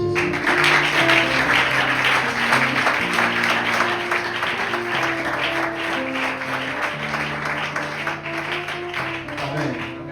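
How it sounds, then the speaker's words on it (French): A church congregation applauds and cheers for Jesus during a worship service, with steady crowd clapping throughout, an organ or keyboard sustaining chords underneath, and voices mixed in. "Tu n'as pas bien acclamé Jésus, acclamons Jésus"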